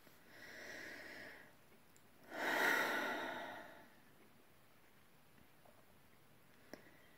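Slow, deep breaths are drawn close to the mic during a calm bellydance warm-up: a soft inhale, then a longer, fuller exhale, followed by quiet with one faint click.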